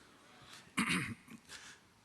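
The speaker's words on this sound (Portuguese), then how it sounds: "Deixa eu dar uma tossidinha aqui de novo." A pastor gives a short throat clear and a small cough, one rough burst followed by a fainter second one, close and quiet with no speech around it.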